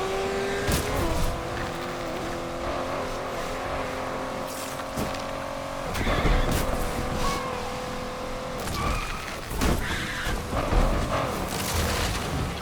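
Cars race and crash in Need for Speed Unbound, with engines roaring, tires squealing in skids and sudden impact thumps breaking through a dense, loud racing mix.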